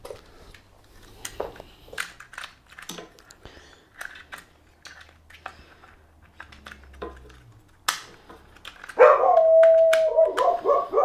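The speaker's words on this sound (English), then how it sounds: "There's the guard dog" A guard dog barks in several sharp bursts at moderate distance outdoors, near a Ryobi 33cm lawn mower being worked on, with a louder rough harsh burst toward the end.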